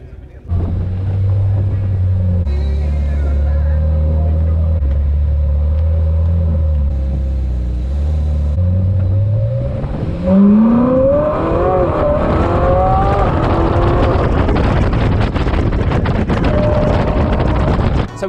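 A Ferrari drives along a country road in the Cotswolds, its engine rumbling low and steady, then revving up through rising gears with wind noise, loud and close throughout.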